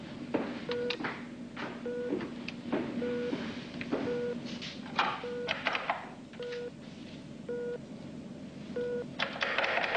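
A telephone aboard a ship is dialed, a quick series of short electronic dial tones in irregular bursts over a low background hum, clear and close with no talking.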